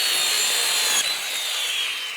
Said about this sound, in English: Went to cut it with my regular saw, and it was a coarse cut.